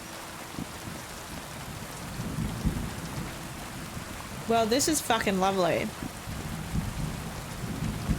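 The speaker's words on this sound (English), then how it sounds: "Thunder and lightning?" Steady rain hisses under low rolling thunder in the video game Kingdom Come Deliverance II, the storm continuing throughout while someone speaks briefly partway through.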